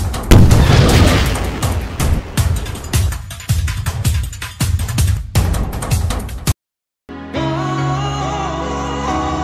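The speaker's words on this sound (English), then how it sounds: "Here's my nuke launcher." A nuke launcher in a video game fires a rapid volley of loud booming blasts, then cuts to brief silence before music begins.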